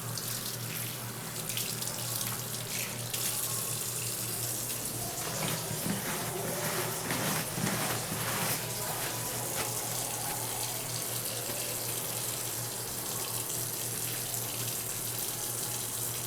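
Hands being rinsed under a running sink tap, a continuous steady splash and hiss of water for over fifteen seconds, with a low hum underneath.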